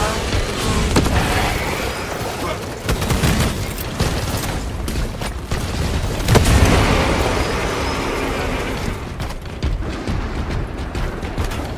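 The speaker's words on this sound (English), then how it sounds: "Deploying frag grenade." A frag grenade blast in the video game Space Marine 2, loud booming detonations and debris bursts amid dense battle noise and gunfire, with several sharp impacts over continuous rumble.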